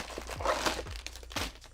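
Plastic bags of LEGO pieces from the Tudor Corner Modular set are crinkled and handled up close, giving quick, repeated crackling crunches and rustles.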